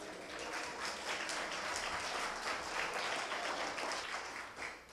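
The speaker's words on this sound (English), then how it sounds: "Round of applause." Dinner guests at a State of the City event in Gilroy applauding together, a continuous, moderately loud spread of clapping from a roomful of people that tapers slightly at the end.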